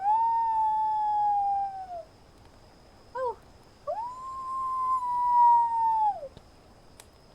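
A narrator's voice imitates a wolf howling while telling a story: two long, drawn-out howls, one rising and one falling, separated by short yelping cries, close and clear against a quiet background.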